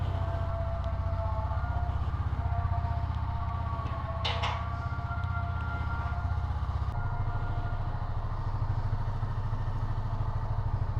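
A Honda CB300F motorcycle engine runs at a steady idle, loud and close, with a continuous low rumble and a brief mechanical clatter partway through.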